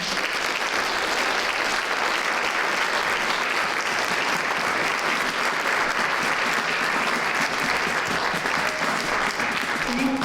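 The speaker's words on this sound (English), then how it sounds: "I'd like you to give a round of applause to our team" Sustained audience applause at a League of Women Voters candidates forum in Warner, a dense, steady wash of clapping from a full room, loud and even throughout with no pauses.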